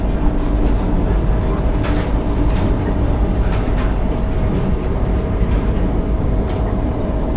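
A Vande Bharat express (20662 Dharwad–KSR Bengaluru) runs at around 107–110 km/h, heard from inside an AC chair car as a loud, steady rumble and roar with faint rhythmic clatter throughout.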